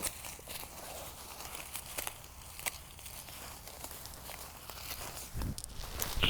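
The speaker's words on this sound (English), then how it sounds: "I just want to really fill this bucket up all the way to the top to make a really nice, strong tea." Comfrey stems are cut by hand and gathered into a bucket outdoors, making continuous soft rustling, crinkling and snapping of leafy stalks at close range, with a few louder crunches near the end.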